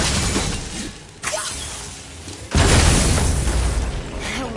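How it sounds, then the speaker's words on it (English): Objects smashed apart in God of War, loud close crashes of shattering debris with an abrupt burst near the start and a heavier crunching break midway that spills into rumbling, scattering fragments. "I will never get tired of shattering things with this"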